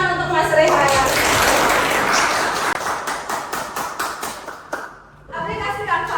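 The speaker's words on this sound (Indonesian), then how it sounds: "Tepuk tangan untuk Mas Rehan." A burst of hand clapping from a classroom group fills the middle of the clip during a teaching session, with a voice speaking before and after it.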